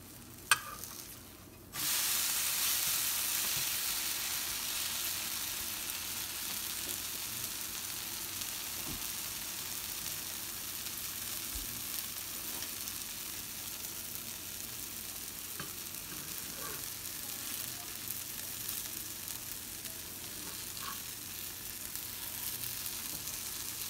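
Dosa batter fries in oil on a pan, giving a loud, steady sizzle and hiss that starts abruptly after a brief quiet moment and continues close by with faint scraping.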